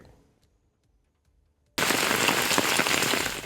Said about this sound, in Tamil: பல்வேறு பகுதிகளில் 1 மணி நேரத்திற்கு மேலாக இடி மின்னலுடன் மழை கொட்டித் தீர்த்தது